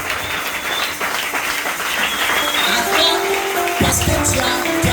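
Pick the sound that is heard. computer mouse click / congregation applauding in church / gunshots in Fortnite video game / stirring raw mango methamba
congregation applauding in church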